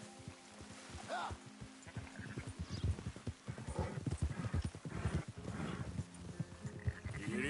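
Horse hooves clip-clopping at a steady walking gait in the video game Red Dead Redemption 2, with a whinny near the start and a faint voice briefly underneath.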